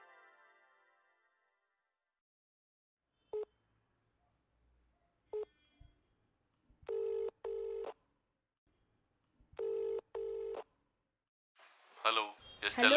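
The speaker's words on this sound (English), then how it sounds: "Let me call him." A telephone dialing a call: several short spaced tone beeps, then two pairs of longer tones, fairly clear and near, with a brief burst of other sound at the end and no talk.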